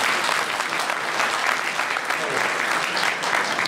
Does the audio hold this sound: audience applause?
yes